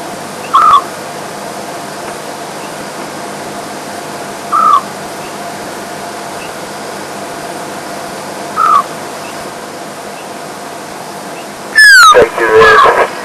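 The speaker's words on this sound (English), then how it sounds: "Just want to give them time to listen to the scops owl." A scops owl calls in the wild during a live game drive: a single short, soft hoot repeats every four seconds or so at a distance over a constant bed of insect and night ambience, and a louder bird call and some rustling come near the end.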